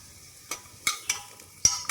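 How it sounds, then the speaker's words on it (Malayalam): Onions sauté in hot oil for a jackfruit rind stew, a faint low sizzle under four sharp scraping stirs spread across two seconds, close by and quiet. "സവാള ഒന്ന് ചെറുതായിട്ട് എണ്ണയിൽ ചൂടാക്കുക."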